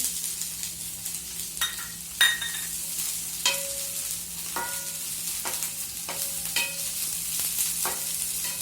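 Capsicum and other vegetables being stir-fried for Chinese noodles, a steady sizzle broken by repeated scraping and tossing strokes from a utensil in the pan, close and moderately loud with no talking.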